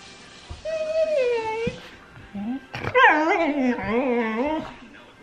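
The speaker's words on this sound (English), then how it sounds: "You're a big dog." A dog whimpers and whines in high, wavering moans, two drawn-out bouts close by with a brief pause between.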